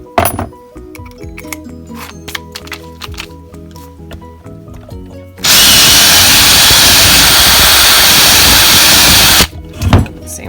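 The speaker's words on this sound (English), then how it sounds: "I'm drilling below, just below where we cut those slits in" A power drill bores holes in a wooden slingshot frame. Quiet clicks and handling come first, then a loud, steady drilling whine runs for about four seconds before stopping abruptly.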